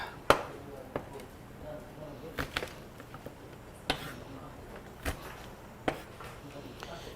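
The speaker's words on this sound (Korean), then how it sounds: "우선 마늘을 조금만 더 다져 놓을게요" Garlic minced with a kitchen knife on a cutting board for a meatless braised radish dish, heard as sparse, sharp chopping taps, about eight over several seconds, fairly close with quiet room tone between.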